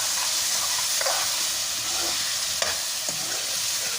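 Potatoes and masala frying in a pan for an aloo anday salan, a steady close sizzle and hiss with a few soft stirring scrapes, no voices.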